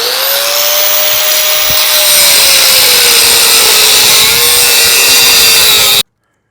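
A loud, continuous whine of a power tool cutting a square around a spot weld on a scrapped generator, steady pitch with slight dips, ending abruptly.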